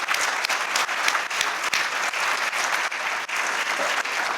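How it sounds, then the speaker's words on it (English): An audience at a community foundation event applauds, dense and steady clapping from many hands that stays loud and even throughout. "Give him a round of applause."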